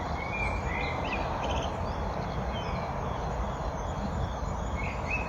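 Dawn chorus in and around a garden, with blue tits and great tits calling off to one side and a blackbird singing persistently, a faint continuous wash of birdsong over steady background noise.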